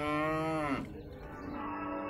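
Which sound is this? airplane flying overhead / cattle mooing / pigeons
cattle mooing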